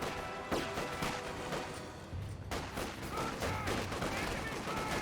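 Rapid, crackling bursts of automatic gunfire from a rear machine gun in Company of Heroes 2, layered with scattered explosions and battle noise. The firing is dense and continuous under faint commentary.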